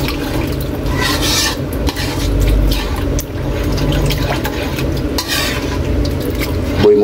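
Water is poured into a cooking pot and stirred while a tuna dish is being made, a continuous close splashing and sloshing with scraping stirs throughout.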